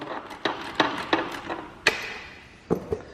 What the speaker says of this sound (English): I just need a 10mm ratchet. I'm going to go ahead and loosen up the nut here